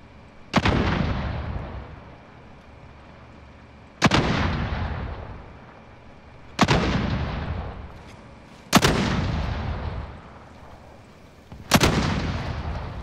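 Five heavy, booming shots ring out in Call of Duty: Modern Warfare, spaced about two to three seconds apart, each a sharp loud crack with a long decaying tail.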